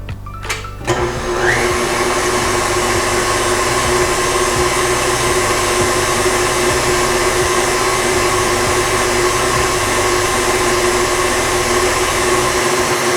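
An electric mixer beats mamon batter, a chiffon-style cake mix, toward stiff peaks, starting up with a brief rattle and then whirring at a loud, steady, continuous pitch, close and alone.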